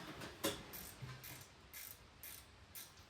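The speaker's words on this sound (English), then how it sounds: "Now we have to back that bolt out to connect that there." Ratcheting on a bolt on a 1979 Honda CX500 motorcycle, a faint, close series of quick clicking bursts repeating at a steady rhythm, with one sharper metallic knock early on and no talking.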